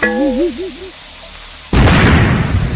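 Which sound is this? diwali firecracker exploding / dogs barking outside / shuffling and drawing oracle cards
diwali firecracker exploding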